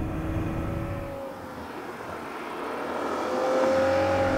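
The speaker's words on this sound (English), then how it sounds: "you get a burble and crackle on deacceleration and ask for a downshift" A 2013 Ferrari F12 Berlinetta engine rumbles loudly and steadily, easing off then building again toward the end, with a rough low burble and crackle on deceleration throughout and no talk.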